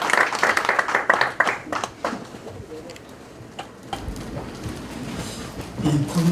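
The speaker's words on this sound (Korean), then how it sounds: "큰 박수 부탁드리겠습니다." Church congregation bursts into applause during a pastor installation and anniversary service. The clapping is loud and dense for about two seconds, then thins to scattered claps and room murmur.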